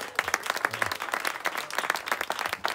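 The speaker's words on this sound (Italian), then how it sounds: "facciamo un applauso perché già" Seaside chalet audience at a live comedy show applauding, a lively patter of many hands with distinct individual claps standing out, fairly close and steady for a few seconds.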